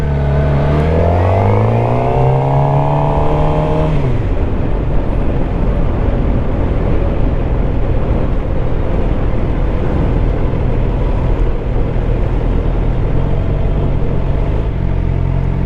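A motorcycle rides through town traffic while lane splitting, its engine revving and rising in pitch at first, then settling into a steady loud rumble with heavy wind noise throughout.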